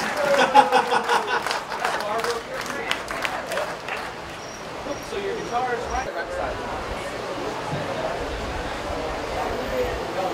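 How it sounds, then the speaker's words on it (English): Applause from an audience at a school reunion gathering rises in a burst of claps at the start, then fades into crowd murmur and scattered chatter. "So everybody make a round of applause for Mr."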